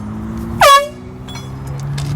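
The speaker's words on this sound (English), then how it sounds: "Third one is an air horn." A single short, loud blast of an air horn used as a rail track safety warning cuts through a low background rumble, then fades, leaving the steady hum behind.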